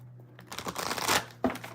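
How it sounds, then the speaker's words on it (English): A deck of tarot cards is shuffled by hand, giving soft rustling and riffling bursts that build, pause briefly, then end in a sharper flurry, fairly quiet and with no talking. "Let me give this a really good shuffle."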